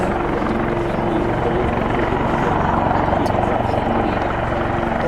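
A Portuguese Navy Westland Lynx Mk95 helicopter passes at an air show, its loud, steady rotor thrum and turbine roar filling the scene throughout, with people talking faintly underneath.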